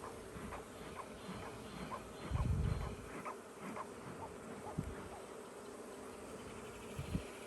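A steady, soft swarm of honeybees hums throughout around an open hive during an inspection after a swarm, with occasional closer buzzes passing by; no talking.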